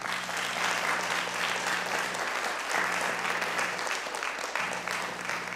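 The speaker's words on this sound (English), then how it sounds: "if you could refrain from clapping and that kind of thing, we'd really appreciate it" Audience applauding steadily through a city planning commission meeting in Fresno, a continuous dense wash of clapping from a crowd of parents that holds at a fairly even level for several seconds, with no voices over it.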